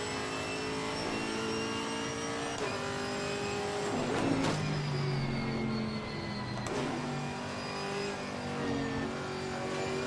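A GT4 race car in Assetto Corsa Competizione revs steadily with clear rising and falling engine harmonics, shifting gears on corners, loud and up close with no voices over it.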